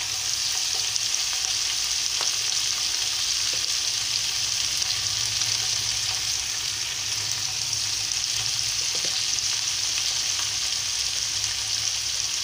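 Broad beans fry in a pan on a home stove, a loud, continuous oily sizzle close by, steady throughout with faint occasional stirring clicks and no talking.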